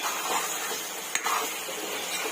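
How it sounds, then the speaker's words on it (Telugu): Nellore-style chicken fry cooking in a covered pan, a steady soft sizzle and hiss with a single sharp clink partway through, close and alone without talk. "చూడండి మన ఫ్రై ఎలా ఉడుకుతుందో"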